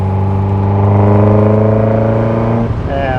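A 1978 Ferrari 308 GTS engine fitted with individual throttle bodies and electronic fuel injection revs steadily and loudly, its harmonic drone rising in pitch before dropping off near the end.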